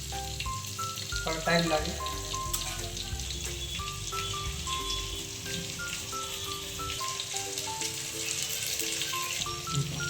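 Onions fry in a pan with a continuous close sizzle and spattering crackle, while music with melodic notes plays throughout and a voice speaks briefly.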